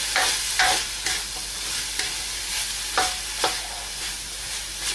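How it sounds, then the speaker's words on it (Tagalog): Carrots and green beans fry in a pan while being stirred, a steady sizzle running throughout with several sharp scraping stir strokes near and clear, no talking. "So, haluin lang natin maigi."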